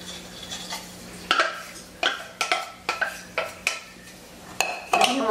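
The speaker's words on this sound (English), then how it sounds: "I'm going to start stirring so that I don't get it full of a ton of liquids." Hummingbird cake batter with pineapple and bananas being stirred in a bowl for a Texas sheet cake, with a steady series of close, sharp utensil scrapes and clinks against the bowl, about eight strokes in a row.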